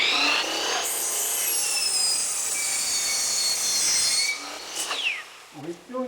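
A power saw rips a thin shave off a wooden board, a loud continuous high whine with a gritty cutting edge lasting about four seconds, then winding down as a voice speaks nearby.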